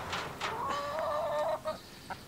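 Backyard chickens, three-year-old hens in a flock of nine, clucking and calling nearby, a few short clucks giving way to a drawn-out rising squawk, then scattered softer clucks.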